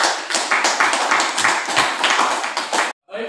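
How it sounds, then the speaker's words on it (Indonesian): A classroom of students claps for a project group in a youth catechesis lesson, a dense, steady burst of applause that cuts off abruptly near the end before a brief quieter tail. "Tepuk tangan untuk kelompok Pikir Geng."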